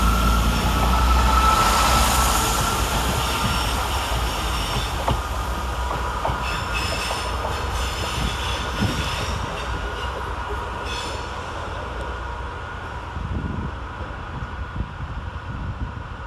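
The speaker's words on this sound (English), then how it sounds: "Next out, two departees 165008 and 165020 with the 1657 Chiltern Railways service to Aylesbury Vale Parkway" Class 165 diesel multiple unit trains rumble and roar as they pull away from London Marylebone station, engines droning loudly with wheel squeal and rattling carriages, no voices.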